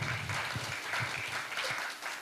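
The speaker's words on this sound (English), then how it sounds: "A big round of applause for everyone who came here for the first time." Worshippers at the ISKCON Dallas temple applaud, a soft, distant-sounding crowd clapping that holds steady and fades slightly at the end.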